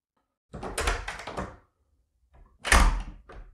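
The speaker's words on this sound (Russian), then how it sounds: "Хлопнула входная дверь." A front door slams shut with a heavy thud, then a second loud bang follows after a short pause, with a faint rattle at the end.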